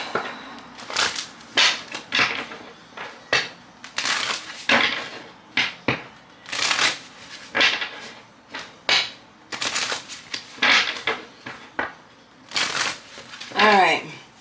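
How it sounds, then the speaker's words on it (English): Tarot cards being shuffled in repeated bursts of crisp riffling and slapping, close and fairly loud, with a voice speaking between some of the bursts. "And we're going to shuffle."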